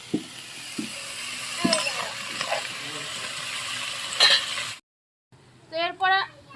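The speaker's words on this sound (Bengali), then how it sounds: "এবার আমি আলু আর মটরশুঁটিগুলো একসঙ্গে ভেজে নেব।" Potatoes and peas frying together in a pan with no salt or turmeric: a steady close sizzle with scattered clanks and scrapes of stirring, then a short gap and a few louder metallic scrapes.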